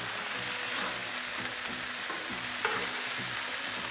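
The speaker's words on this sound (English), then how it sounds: "Just look how them burgers are cooking up." Chorizo burgers sizzle steadily and loudly on a hot Blackstone griddle, a dense, continuous fry crackle with faint scraping ticks throughout and no voices.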